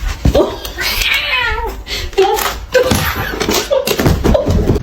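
A heavyset house cat gives several loud, close meows and drawn-out yowls in quick succession, with people talking and laughing around it.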